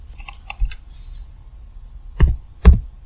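Typing on a computer keyboard in a web browser: a few light, close key clicks, then two louder, heavier key presses near the end, with no talking.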